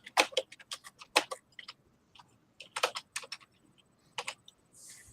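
Typing on a computer keyboard: bursts of quick, crisp key clicks in uneven runs separated by short pauses, close and fairly quiet, with a soft rustle at the end and no speech.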